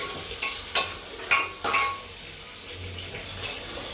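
Onion and tomato sauté in a pan, with a few sharp clinks and scrapes of a spoon stirring against metal over a low background sizzle, close by and without talk.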